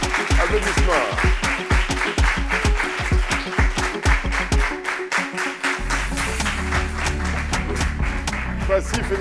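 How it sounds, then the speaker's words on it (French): Audience applause welcoming a guest entrepreneur onto the stage at a gathering, dense clapping with rhythmic beats and music underneath, fading into sustained tones and voices near the end. "Applaudissements."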